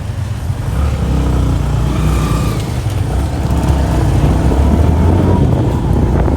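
Motorcycle taxi ride through the streets of Kigali, Rwanda, a loud, steady engine drone heard from the bike with wind buffeting the microphone throughout and passing traffic around it.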